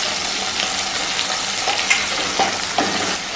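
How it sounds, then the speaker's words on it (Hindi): Ginger and tomato hit hot oil with whole garam masala and fry with a bright, dense sizzle. A few spatula clinks and stirs punctuate the sound near the middle and end. "इसको मैंने भून लिया है, अभी मैं इसमें डालूंगी ये अदरक और टमाटर"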